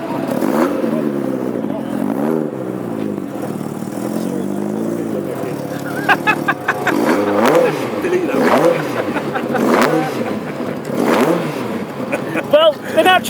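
A hot rod's Ford cross-flow engine revs repeatedly in the pits at a car show, pitch rising and falling in rhythmic sweeps, loud and close, with throaty bursts and some clatter toward the end.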